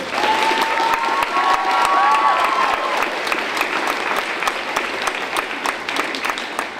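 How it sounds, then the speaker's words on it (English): A graduating class at a 2018 early college graduation ceremony applauds their parents and families, producing steady, dense clapping from a large crowd that continues throughout at full strength before easing slightly toward the end. "allow you, the graduating class of 2018, to applaud your parents and grandparents and those family members that have helped you to get to this evening"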